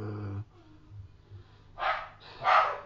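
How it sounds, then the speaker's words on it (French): Dogs in a home make a couple of short muffled barks or snorts, close to the microphone and moderately loud, separated by quiet breathing-like noise. "Ah, excusez-moi, c'est mes chiens. Ils se manifestent encore."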